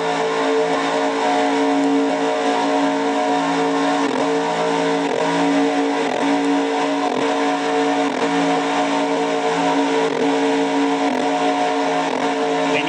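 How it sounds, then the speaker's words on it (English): A race car engine heard onboard the number 3 car in a Castrol GTX Cup racing video game drones loud and steady, a constant buzzing tone with slight pitch wavers and no talk. "On board with Matthew Rodriguez in the 3 car."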